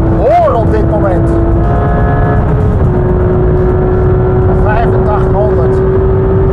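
A street-legal race car with ceramic brakes drives on a highway, its engine roaring loud and close with a steady drone and rising revs, while someone talks over it.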